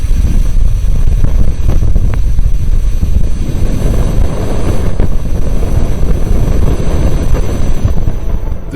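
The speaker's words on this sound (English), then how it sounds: "The faint sound you just heard is coming from the solar wind interacting with Venus" Spacecraft magnetic and accelerometer data of the solar wind interacting with Venus turned into sound: a loud, continuous low roaring rumble like wind buffeting, steady throughout with no distinct events.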